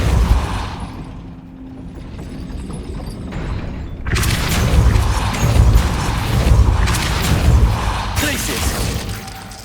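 A gate mechanism raised by the Depulso spell in Hogwarts Legacy: a low rumbling and grinding starts faint, then surges abruptly into a loud, heavy mechanical roar with crashing clatter that sustains to the end.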